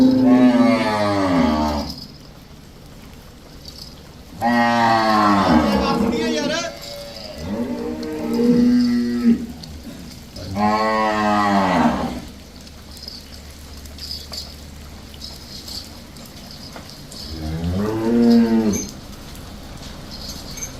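A Sahiwal cow at a dairy farm moos repeatedly, with several long, loud, close calls spread at uneven intervals and quieter farm background in the gaps.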